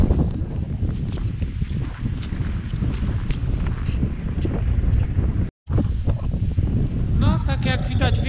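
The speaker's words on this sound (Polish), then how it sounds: "Wieje trochę, nawet nie trochę, tylko mocno, już dużo." Strong gusty wind on the approach to Babia Góra mountain buffets the microphone with a heavy, continuous low rumble that briefly cuts out. A person speaks near the end.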